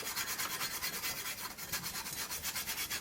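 Flaky rust being scraped off the metal casing of an Olivetti M250 power supply, a steady, close, rasping scrape with quick repeated strokes and no talking.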